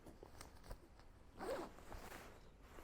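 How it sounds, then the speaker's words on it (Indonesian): A zipper is pulled on a Macpac hiking jacket to detach its hood, one quiet raspy zip lasting under a second amid faint rustling of fabric. "hoodnya ini bisa dilepas dengan resleting"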